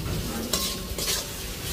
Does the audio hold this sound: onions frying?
yes